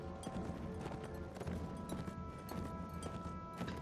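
A horse gallops in the Mount and Blade: Warband video game, its hooves drumming in a fast continuous clatter under battle noise, loud and close throughout.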